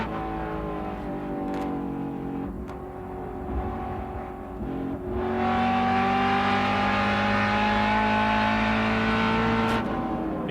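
On-board sound of a GT race car in the 2004 World Challenge GT race at Mosport, engine droning loud and close through a corner, then rising sharply as the driver accelerates out, no talk.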